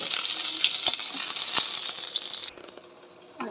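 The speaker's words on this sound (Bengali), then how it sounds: "ফোড়নে দিয়ে দেবো তেজপাতা, শুকনো লঙ্কা, গরম মশলা," Bay leaf, dry chilli, garam masala and cumin hit hot oil for a tempering with a loud, crackling sizzle and a few stirring clicks, then drop abruptly to a much quieter simmer partway through.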